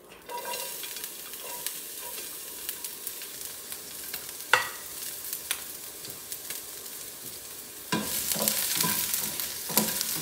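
Garlic stirred and fried in a pan, a soft continuous sizzle with scattered utensil scrapes and taps, briefly louder and brighter near the end, close and alone with no speech.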